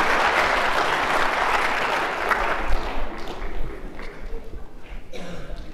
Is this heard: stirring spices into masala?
no